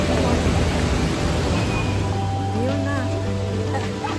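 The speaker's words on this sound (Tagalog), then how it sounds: "Ayan o, lumalakas na yung kaskata." Rushing water of an artificial waterfall outside Rome, Italy, a steady broadband roar that builds slightly, with people talking over it.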